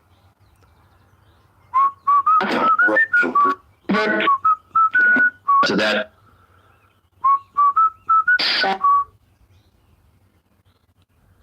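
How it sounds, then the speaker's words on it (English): A whistled melody of Pop Goes the Weasel in a quiet room: bursts of short, clear tonal notes in several phrases with pauses between them, then silence, with a few faint spoken words mixed in. "Someone says I can hear Pop Goes the Weasel."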